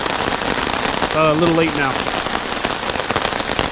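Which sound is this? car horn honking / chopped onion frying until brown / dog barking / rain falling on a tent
rain falling on a tent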